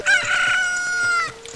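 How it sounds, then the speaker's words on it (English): A chicken in the video game Zelda Ocarina of Time gives one loud, close crowing call, a stretched cock-a-doodle-doo that holds for over a second before fading. "Oh my god, I has a chicken."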